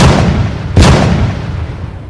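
A single loud gunshot blast in the video game S.T.A.L.K.E.R., one sharp report near the middle, with a rumbling battle-like background continuing around it.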